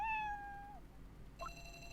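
A cat meows twice in a tense drama scene, first a long, clear, drawn-out meow, then after a short pause a second shorter, rising meow over a faint room hum.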